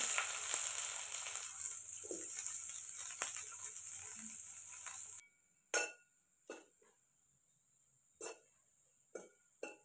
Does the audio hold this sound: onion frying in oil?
yes